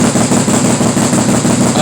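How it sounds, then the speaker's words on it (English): A Can-Am 570 XMR ATV engine idles steadily and loudly up close after a cold start, about 200 RPM above normal, a rough, even chug with no change in pace. "We're idling about 200 RPMs higher than normal."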